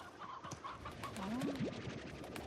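Chicks chirp and cluck in the farming video game Slime Rancher, a few rising and falling calls in quick succession over a busy, steady game soundscape.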